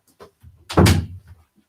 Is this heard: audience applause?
no